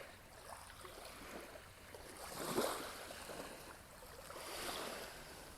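Small ocean waves washing in softly, a faint, low surge that swells and recedes twice with gentle hiss between.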